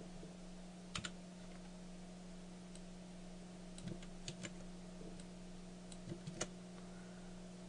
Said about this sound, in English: Control and C on the keyboard, and Control and V to paste